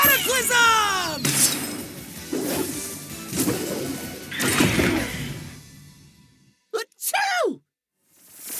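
A crashing, whooshing smash from Cat Noir's Cataclysm power in the Miraculous Rise of the Sphinx game, loud and layered under character voices, followed by short swishing bursts and then quiet.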